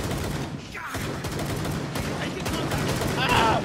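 Gunfire in the video game Rainbow Six Extraction, dense repeated shots layered over a busy mix with faint game effects, moderately loud throughout.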